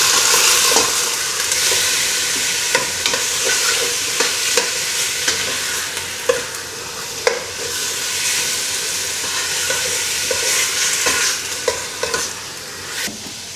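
Chicken stir frying in a hot pan, a loud steady sizzle and hiss with frequent clattering scrapes and tosses of a spatula at an irregular rhythm, close up and without speech.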